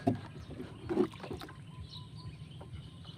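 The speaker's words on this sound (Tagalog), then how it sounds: "sakay muna tayo sa bangka, pwede pa naman yata para hindi tayo mabasa" A small wooden fishing boat (bangka) being boarded on water, with a couple of soft knocks and splashy thumps near the start and around one second, then quiet water and faint outdoor noise.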